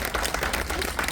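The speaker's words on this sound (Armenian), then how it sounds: "Ես ուզում եմ Շիրվանյան ընտանիքներին մի հատ ծափարենք շատ բարձր" A crowd claps at a restaurant opening, a steady burst of dense applause with scattered individual claps throughout, fairly loud and close.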